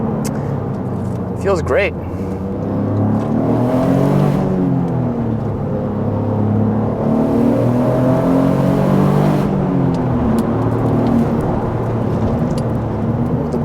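A Toyota GR Corolla, set up on stratified flex fuel, revs hard up to redline with a loud, rising engine drone under an in-car voice, pulling steadily through a gear.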